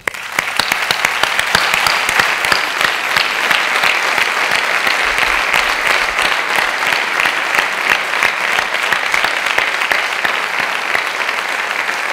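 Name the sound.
theatre audience applause at folk dance gala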